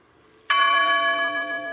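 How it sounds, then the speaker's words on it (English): Church bells at Shanksville, Pennsylvania strike once with a sudden loud clang, then ring on in a sustained, shimmering tone that slowly fades, heard alone. "And the bells rang at Shanksville in Pennsylvania too"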